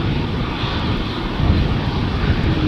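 A steady, moderately loud airliner engine rumble, with a slight swell midway, comes from an Airbus A350 approaching at Amsterdam Schiphol Airport. No one speaks.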